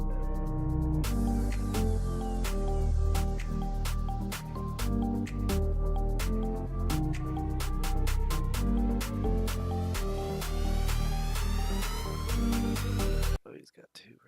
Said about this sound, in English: together, these risers sound like this